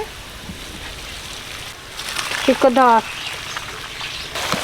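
Boiled pasta poured out of a pot, a steady hissing rush of water with a brief louder splash in the middle, close by, and a short voiced sound over it.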